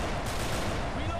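A brief, loud rattle of gunfire in the video game Left 4 Dead 2, dense overlapping shots filling the moment.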